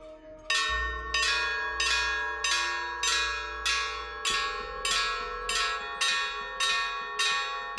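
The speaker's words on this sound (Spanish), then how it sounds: "Las campanas resuenan en el barranco" Church bells ring joyfully in a ravine, struck in a steady rhythm of about a dozen bright, resonant strikes with long overlapping decay, close and loud with no talking.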